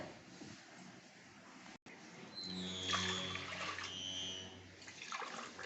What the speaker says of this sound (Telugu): వాష్ చేసుకోవాలండి శుభ్రంగా కడుక్కొని పెట్టుకోవాలి పప్పుని